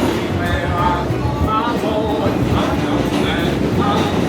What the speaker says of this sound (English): We decided to continue by subway to Brooklyn